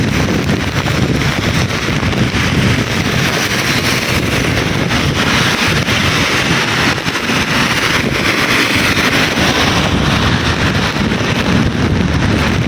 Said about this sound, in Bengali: আমার ছাতা উড়াই নিয়ে যাবে এরকম অনেক বাতাস হচ্ছে